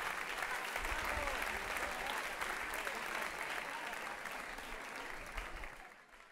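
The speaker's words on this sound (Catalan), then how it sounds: "fantàstic aplaudiment" A crowd applauds after giant figures dance at a Catalan town festa major, a broad steady wash of clapping heard from amid the audience that thins and fades near the end.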